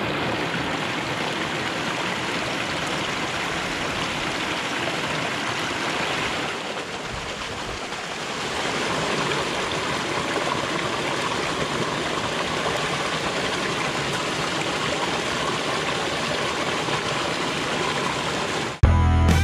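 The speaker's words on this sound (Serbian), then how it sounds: "Na putu do Velikog Vranja staza prolazi pored izvora Krepoljinske reke" Water from the spring of the Krepoljinska river, beside a trail toward Veliko Vranje, rushes and burbles in a steady, close, continuous flow that holds its level throughout, with no talking.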